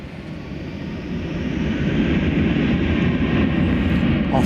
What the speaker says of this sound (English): Las Vegas goes American 1797. It's an Airbus A321.